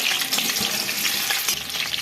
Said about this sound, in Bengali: আলুগুলোকে ওই তেলেই ভেজে নিচ্ছি